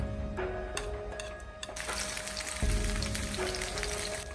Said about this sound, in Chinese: 同样，我们也要用中小火慢慢的煎制。